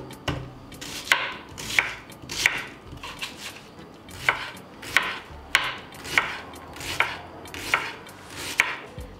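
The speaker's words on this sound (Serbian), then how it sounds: "za to vreme ću iseckati 4 veće glavice crnog luka" A knife chops four large onions on a board in a home kitchen: about a dozen crisp, evenly spaced strokes, close and clear, with no voices.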